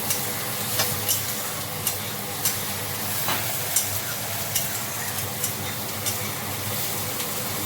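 Onions frying in a pan for a Bengali egg and pointed-gourd curry hiss with a steady, even sizzle, broken by light spatula taps and scrapes spread through.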